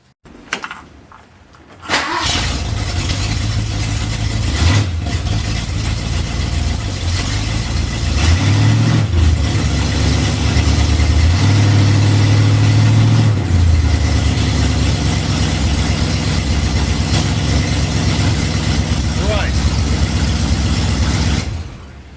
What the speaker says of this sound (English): You shouldn't really do that, running a car on a jack stand